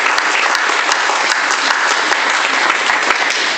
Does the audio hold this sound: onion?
no